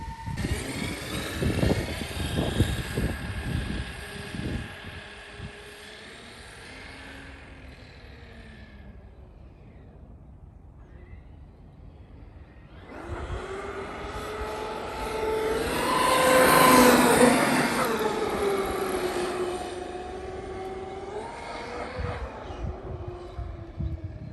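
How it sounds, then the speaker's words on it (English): A Traxxas Xmaxx RC car on a speed run down a road, its motor whine loud and close at first, dropping away, then surging into a louder high-pitched roar mid-run before easing off. "Let's rip it down the road and see how fast we can go."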